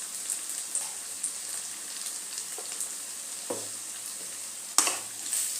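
Tomatoes cooking in a pan with salt and turmeric, a soft steady sizzle broken by light stirring scrapes and a louder clink near the end, close by with no voices.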